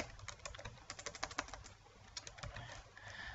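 Rapid, irregular clatter of keys on a computer keyboard, close and fairly quiet, with a brief pause midway before the tapping resumes; no talk.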